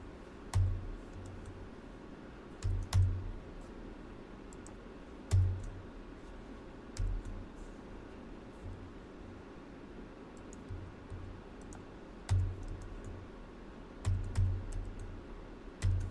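Computer keyboard typing code in a quiet room, sparse soft key clicks in short bursts with pauses between them, fairly faint over a low background hum.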